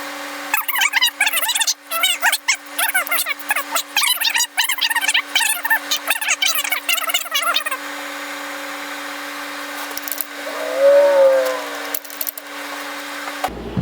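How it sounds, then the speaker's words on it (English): Hammer taps knock the pistons and connecting rods of a 1950 Ford flathead engine loose from the crankshaft, a rapid run of sharp metallic knocks close by, then a quieter stretch with a brief scrape. "give them a slight tap on the back of the threads to break them off of the crank"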